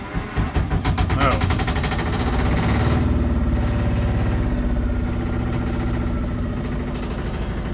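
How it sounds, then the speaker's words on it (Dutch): A sailing yacht's overhauled inboard engine cranks and catches within a second or two, then settles into a steady, loud, close idle with a rhythmic chugging throb. "Je ziet het hoe snel de motor start."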